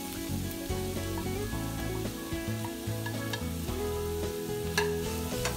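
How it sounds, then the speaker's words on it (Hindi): Grated bottle gourd is stirred in a pan with a spatula, giving continuous scraping and mild sizzling over a steady tonal background hum, with occasional sharper clicks. "इसे अच्छे से मिक्स करेंगे ताकि जो बचा हुआ वाटर है वो भी अच्छे से एब्जॉर्ब हो जाए।"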